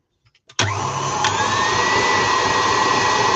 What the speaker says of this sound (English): Yeah, I love my KitchenAid.